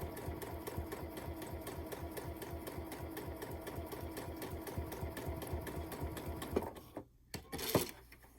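A sewing machine stitches quilt binding on an octagon or hexagon quilt in a rapid, steady mechanical whir and needle rattle for about six and a half seconds, then stops, followed by a few soft handling noises.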